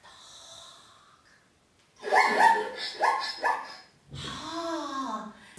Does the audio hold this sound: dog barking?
yes